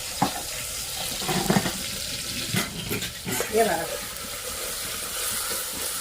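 Oil crackles and sizzles in a pan with a steady frying hiss, broken by a few louder clatters and stirring bursts, while kadhi tempering is prepared in a home kitchen.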